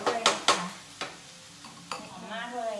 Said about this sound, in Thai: คนให้ทั่วนะจ๊ะ